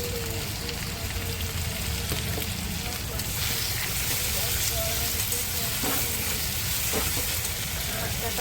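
Bombay duck (lote fish) fries in a pan, giving a dense, steady sizzle and spatter that holds close and loud from start to finish, with no speech over it.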